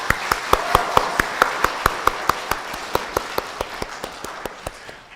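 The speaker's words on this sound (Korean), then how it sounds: "우리 박수 한번 해주시면 감사하겠습니다." A church congregation applauds the men's choir at a New Year's Eve service, clapping in a steady, rhythmic unison beat that stays even and gradually fades toward the end.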